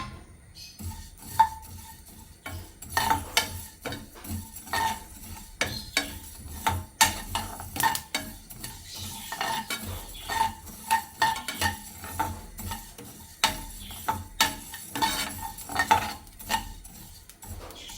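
Slit green chillies roast in a pan for pickle, with steady scraping and clinking of a spatula stirring against the metal, irregular taps and knocks over a faint sizzle, no voices.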